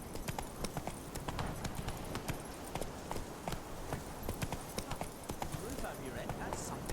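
Rapid rhythmic hoofbeats of the horse Roach galloping in The Witcher 3, a steady clip-clop running throughout with game speech over it.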